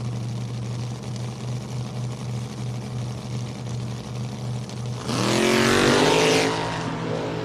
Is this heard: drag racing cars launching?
yes